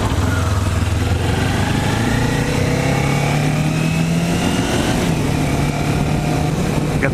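A Kawasaki Ninja 400 motorcycle runs outdoors on a cool day after its battery is reinstalled, a steady close engine drone with small pitch wavers and a slight rise partway through.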